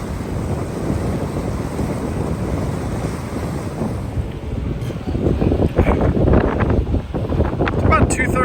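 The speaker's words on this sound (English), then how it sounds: "Wind's picked up a little bit." Wind buffets the microphone in a continuous rushing roar while a boat cruises the Intracoastal Waterway, with water noise beneath and gusts swelling stronger toward the end.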